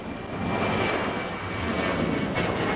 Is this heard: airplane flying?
yes